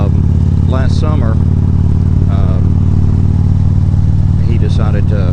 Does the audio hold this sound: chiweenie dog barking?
no